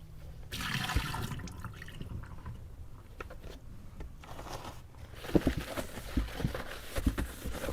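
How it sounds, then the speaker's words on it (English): A basin of bath water poured out into a sink, a gushing splash followed by draining and trickling water at moderate distance. "I'm going to go ahead and dump that water out."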